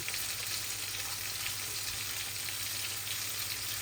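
A tempering of bay leaves and whole cumin frying in oil for a tilapia fish curry with cabbage and cauliflower, producing a steady, even sizzle with a soft hiss that runs unbroken from start to finish.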